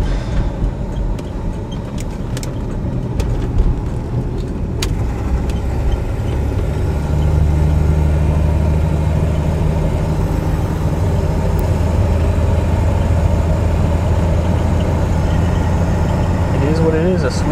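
A 1986 AMC Eagle Limited wagon engine running, a low steady rumble that grows fuller and more sustained partway through, heard close up beneath someone talking.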